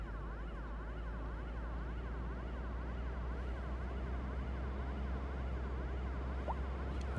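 Ambulance sirens in the city-building game Cities Skylines 2, a steady wailing siren sweep running continuously under a constant low traffic hum, with no talk.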